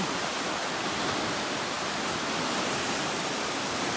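Steady, dense rushing of fast-moving water fills the clip, a loud continuous roar without pauses or changes.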